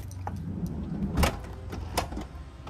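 The power sliding door of a Honda Freed MPV closes with a continuous motor whir and a firm latching thunk partway through, then a second softer clunk, heard up close with no talk.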